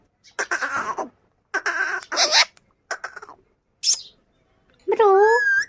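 An Indian ringneck parrot chattering in bursts of squawky, speech-like mimicry, ending in a rising, warbling whistle-like call, heard close and loud with short silent gaps between phrases.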